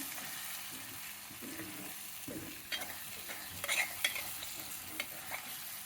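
Ingredients being stirred and mixed in a pan for rajma, with a soft frying sizzle under scattered close scraping and clinking strokes of a spoon against the pan.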